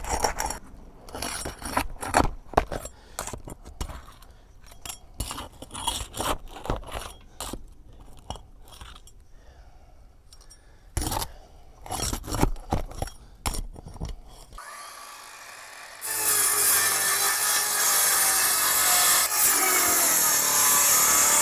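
Roof plywood is sawn in repeated rough back-and-forth strokes up close, with pauses between bursts, during a raccoon removal from a ceiling; a steadier grinding, rasping sound takes over toward the end.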